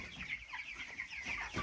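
Chickens clucking in a poultry house on a South African farm, a dense chorus of many birds chattering continuously, close and fairly loud with no talk.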